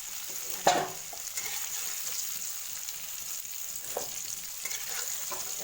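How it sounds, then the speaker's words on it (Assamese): Potatoes frying in hot oil with ground cumin and garam masala, a soft steady sizzle with a few sharp stirring clatters from a utensil against the pan, heard close and alone. "এতিয়া আমি আলুখিনি কাঢ়িম"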